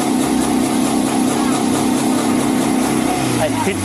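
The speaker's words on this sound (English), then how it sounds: "Please, can you turn off your engine, please?" A car engine idles steadily, a continuous low drone heard close and loud from start to finish, with faint voices in the background.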